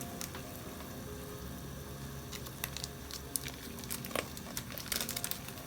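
Maggi shrimp seasoning packets crinkle and tear open beside a pot of water heating for a Jamaican-style seafood boil, with soft, scattered rustles and a few sharper crackles over a steady background hiss.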